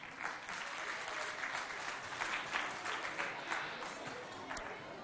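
Schoolchildren at an evangelical school applaud together in a dense, steady wash of clapping that holds level throughout, with some voices mixed in.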